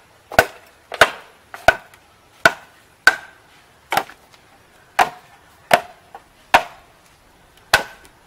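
Sharp, hollow woody whacks from bamboo being hit hard to split it repeat about once a second, ten or so strikes, each ringing briefly before the next blow.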